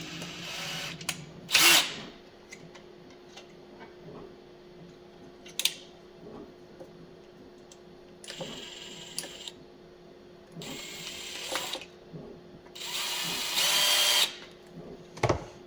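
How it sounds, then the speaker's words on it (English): A power drill whirs close by in several short, separate bursts while drilling a large hole in plastic, with quiet pauses between them and a longer, louder run near the end. "Drill my big hole now."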